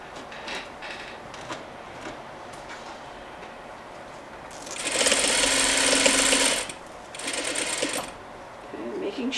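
A sewing machine stitches a seam on a Parsons chair slipcover with white cording. It runs in loud, fast bursts of rapid stitching between quieter handling noises and faint voice.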